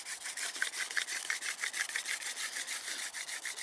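A wooden bow drill spindle turns under heavy downward pressure outdoors in the wilderness, giving a rapid, rhythmic rasping squeak with each stroke of the bow, close and fairly quiet.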